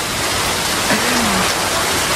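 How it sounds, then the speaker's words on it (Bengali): Heavy rain pours down outdoors in a dense, loud, steady hiss that fills the whole clip, with no pauses and a faint tonal sound briefly in the middle. "কত জোরে বৃষ্টি শুরু হয়েছে"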